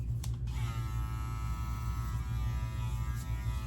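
Andis Phenom cordless hair clipper with a brushless motor running at about 7,000 RPM, a steady soft electric hum and buzz heard close up for a few seconds.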